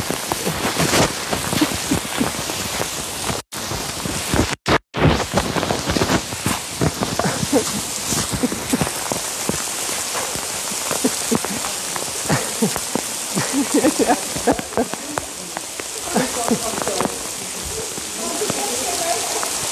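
Rain falls steadily outdoors near a crematorium area, a dense patter of drops on surfaces with a brief dropout partway through, while voices seem to talk over it.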